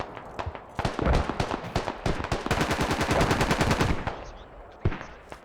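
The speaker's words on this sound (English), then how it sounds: "Even though we didn't see it, we can hear the pistol." Rapid gunfire in the military shooter game Squad, pistol shots mixed into a dense run of loud cracks and bursts that build toward the middle, then fade to a few scattered single shots.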